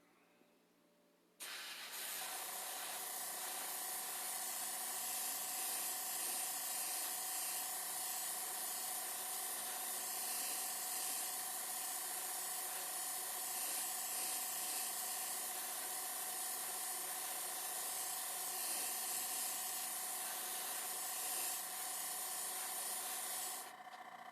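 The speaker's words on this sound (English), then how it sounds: "I'll let that dry and then go back over and spray over the white spots and darken that up." Aerosol spray paint hisses steadily onto a resin diorama kit of the Jaws shark and Quint, one continuous loud burst lasting over twenty seconds after a quiet start, with no talk.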